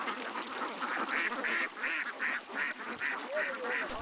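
Ducks at a duck farm in a low-lying area of Mohanganj quack in a quick rhythmic run of about eight calls, close and fairly loud over a soft background.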